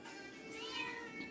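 A tomcat lets out one short, quiet meow indoors, heard alone.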